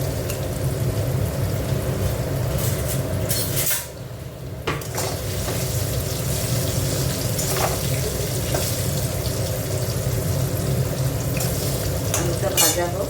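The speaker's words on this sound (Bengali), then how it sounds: "আলুটা ভাজা হোক।" Potatoes seasoned with turmeric and salt fry in a pan, a steady close sizzle under clinks of utensils against metal, with a brief lull partway through.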